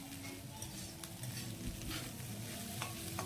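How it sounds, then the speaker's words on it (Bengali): Chowmein vegetables and scrambled egg being stir-fried together in a pan at home, a continuous close sizzle with repeated spatula scrapes and light clinks against the metal, no talking. "সবগুলো এবার একসাথে নেড়ে নেব"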